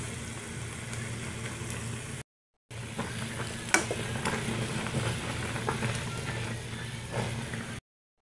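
Instant noodles boiling in a pot on a stovetop, a steady bubbling hiss with broadband texture and a low hum underneath, continuous apart from a brief gap.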